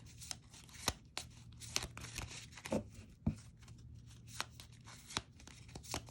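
Fortune cards being shuffled at a pick-a-card reading, with soft, irregular riffling and sharper snaps scattered across a few seconds, fairly quiet and close, with no talk over them.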